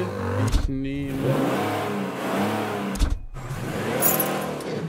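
Car engine in the video game Mafia revving up and down in repeated rising surges, with sharp gear-shift breaks between them, loud and close.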